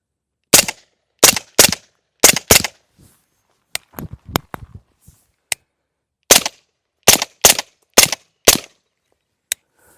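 A suppressed 9mm pistol-caliber carbine fitted with a Huxwrx Rad 9 silencer fires sharp, close shots in quick pairs and short strings, separated by pauses and some faint mechanical clicks.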